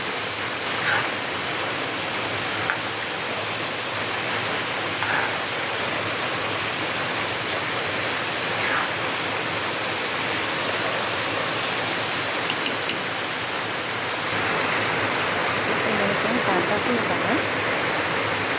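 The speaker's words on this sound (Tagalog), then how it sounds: "grabe lakas ng ulan dito" A loud, constant wash of heavy rain fills the whole stretch, with a few sharp drips or taps standing out now and then.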